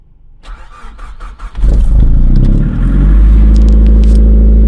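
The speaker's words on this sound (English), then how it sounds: "Let's get this car started." A Nissan Pulsar GTiR engine cranks briefly and then catches, jumping to a loud, steady idle that rumbles on close by.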